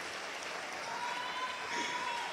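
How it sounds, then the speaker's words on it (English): Audience applause at a South African youth event welcoming a speaker, a steady, fairly faint wash of many hands clapping that carries on evenly with no break throughout. "a warm welcome of applause"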